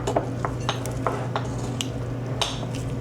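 Bibimbap being mixed with soy sauce in a bowl: a spoon scrapes and clinks against the bowl in irregular, repeated strokes, close and moderately loud over a steady low hum.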